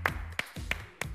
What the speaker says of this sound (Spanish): Ahí hay que aplaudir justo cuando uno dice...